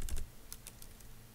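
A password is typed on a computer keyboard in a quick run of about seven soft key clicks, close and alone.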